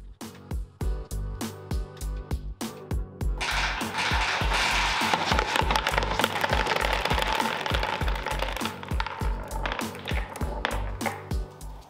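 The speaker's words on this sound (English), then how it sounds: "As the marbles zoom down the landing, all their energy is transferred into loud clanks as they round the corner" Marbles clanking and rattling as they round the corner of a wooden ski jump marble machine with cork-lined walls, a busy run of sharp knocks and clatters, dense in the middle and thinning to separate taps.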